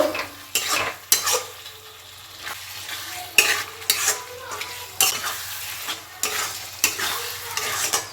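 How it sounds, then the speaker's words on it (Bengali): Spices sauté with fish head and cabbage in a hot pan, a steady sizzle punctuated by brisk, rhythmic spatula scrapes and clinks every second or so, close and fairly loud. "সমস্ত মশলা একসাথে সুন্দর করে কষিয়ে নেব।"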